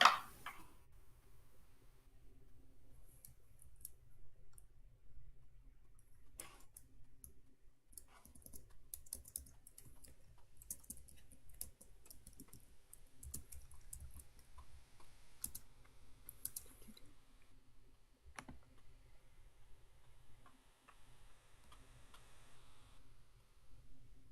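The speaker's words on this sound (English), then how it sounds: "I made a typo while typing it out" Typing on a computer keyboard during a game development session, a steady patter of soft clicks with bursts of faster keystrokes over low background hum, fairly faint and close.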